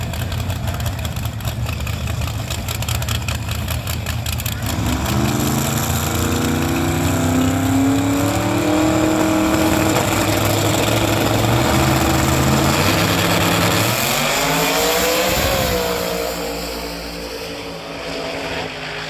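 Drag racing cars, a Nova and a Cadillac CTS-V, roar loudly at the strip. A deep engine drone builds into two rising, sweeping launches, one around the middle and another near the end, before fading off.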